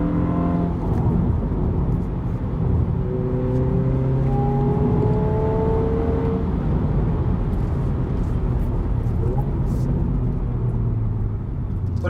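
Cabin sound of a CTC Performance tuned Hyundai i20N accelerating hard on a bumpy road, loud continuous engine roar rising in pitch through the revs under steady road rumble, no talking.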